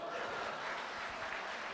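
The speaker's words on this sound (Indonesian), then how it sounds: "Tepuk tangan dulu dong" A brief burst of audience applause at a motivational talk in Indonesia, dense continuous clapping filling the room at moderate loudness without speech.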